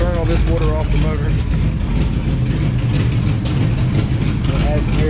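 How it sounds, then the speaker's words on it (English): An outboard boat motor running to burn off water after sitting in a test tank, a loud, steady, rough engine drone with constant low rumble and no pauses, close by. "I'm gonna let it burn all this water off the motor."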